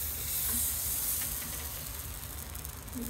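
Chitoi pitha batter sizzles in a hot wok, a soft, steady hiss of frying and steam heard close but quiet, with no talking.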